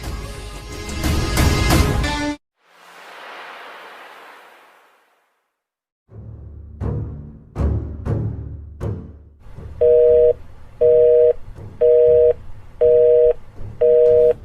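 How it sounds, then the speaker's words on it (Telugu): A telephone call fails to connect: after a burst of loud sound, a soft hiss, silence and several short clicks, five evenly spaced busy-signal beeps repeat at a steady rhythm, clear and loud. "ఏంటి ఫోన్ తగలడం లేదు?"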